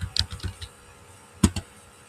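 Keystrokes on a computer keyboard while text is entered into a Flutter app: a quick cluster of soft clicks, a pause, then two sharper taps, near and fairly quiet.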